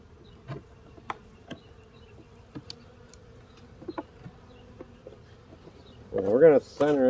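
Honeybees buzz from an opened hive in a treatment-free backyard apiary, a faint low hum with brief closer buzzes of single bees, then a loud burst of nearby buzzing near the end.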